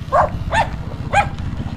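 A dog barks three times in quick succession, close and fairly loud, over a steady low background hum.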